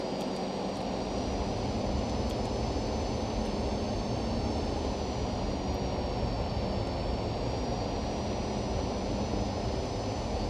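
Steady jet engine drone of a Cessna Citation C525 business jet in flight in the Torquesim flight simulator, a constant broadband roar with faint tonal whine, loud and unbroken with no talking.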